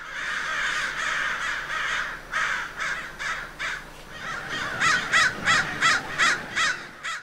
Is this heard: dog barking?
no